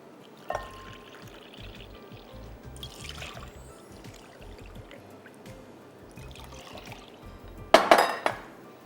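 Milk poured into a mixing bowl for mango bread pudding: a quiet, mostly still stretch gives way near the end to a short, brighter splash of liquid with a faint clink against the bowl.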